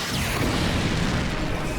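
Missile strike exploding in a science-fiction film about a meteor shower, a dense, sustained rumbling blast with broadband roar filling the whole short stretch at steady loudness, no voices.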